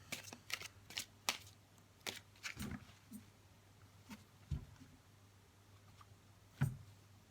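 Tarot cards being shuffled in a series of quick riffling snaps and soft rustles, fairly faint and close, with a steady low hum underneath.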